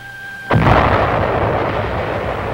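Navy guns firing during an amphibious landing on Los Negros Island in the Admiralties, 1944: one sudden heavy boom after half a second of quiet, then a long rumbling roar that stays loud to the end.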